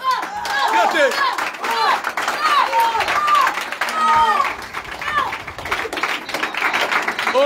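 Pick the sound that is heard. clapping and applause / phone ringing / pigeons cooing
clapping and applause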